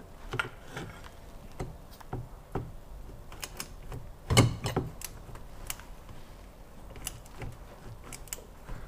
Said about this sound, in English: We're now going to tighten it up fully with the torque wrench